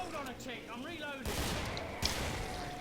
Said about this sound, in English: Oh yeah, they're cannons.